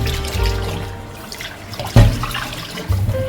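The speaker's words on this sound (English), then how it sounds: "Continue to rinse the meat until the water is clear." A kitchen faucet runs water over meat being rinsed in a sink. A continuous splashing flow is punctuated by louder sloshes and clunks, with low hum underneath and no talking.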